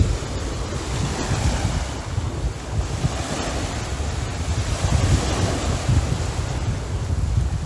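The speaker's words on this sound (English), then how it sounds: "Love the waves." Ocean waves break and wash against the shore in a steady, full roar, with gusts of wind buffeting the microphone throughout and no voices.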